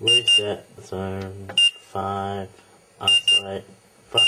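A fire alarm panel sounds short, high electronic beeps in repeated clusters, and someone talks loudly close by between and over them.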